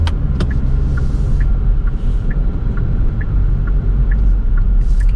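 Genesis G70 Shooting Brake 2.0 turbo engine heard from inside the cabin with active sound design turned off: a constant, loud low rumble and road drone with a faint repeating tick, no talking.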